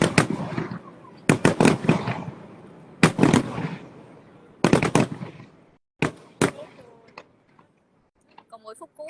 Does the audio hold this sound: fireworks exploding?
yes